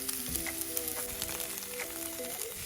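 Sprouts fry in garlic oil with onions in a pan, giving a lively, close sizzle with crackles and stirring scrapes throughout, and no one talking.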